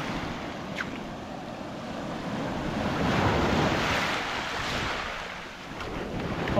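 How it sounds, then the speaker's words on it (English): Ocean surf washes onto Navarre Beach in a continuous roar that swells and eases as each wave comes in, with wind buffeting the microphone and no voices. "Let the surf pull the shells in."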